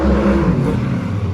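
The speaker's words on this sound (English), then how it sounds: "But check this out on the cranking compression" A race engine turning over on the starter during a cranking compression test, a loud, steady low droning whir that holds evenly for the whole moment, close up.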